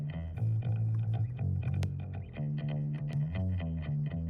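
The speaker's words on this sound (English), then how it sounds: "so let's just boost the bass on here" A bass guitar track in a studio mix, its low end boosted with EQ, plays several sustained deep notes with distinct plucks and note changes, alone and moderately quiet.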